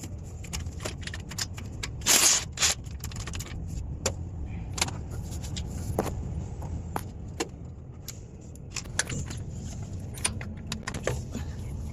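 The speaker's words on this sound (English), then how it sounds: "now we are going to remove the bolt of the starter motor" Bolt being undone on a car's starter motor, with scattered sharp metallic clicks and clinks of the tool and one louder jangling rattle early on, all close by against a steady low background hum.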